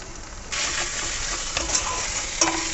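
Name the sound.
spice paste with turmeric and chilli frying in oil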